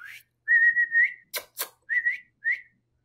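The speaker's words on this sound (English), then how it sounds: "Maybe somebody whistle." Short bursts of human whistling, several sharp rising notes and quick chirps in an uneven pattern, close and clear, used to catch a Labrador's attention indoors.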